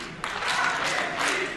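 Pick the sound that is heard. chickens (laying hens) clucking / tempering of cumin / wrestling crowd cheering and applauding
wrestling crowd cheering and applauding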